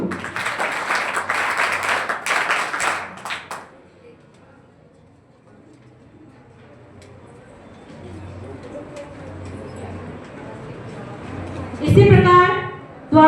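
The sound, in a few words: audience applause for a student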